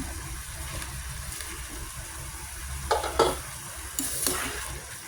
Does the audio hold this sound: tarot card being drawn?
no